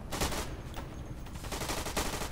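A Gatling gun in the World War II shooter Day of Infamy rattles off rapid, dense bursts of automatic fire, fairly faint and distant, with the pulses of shots running almost continuously.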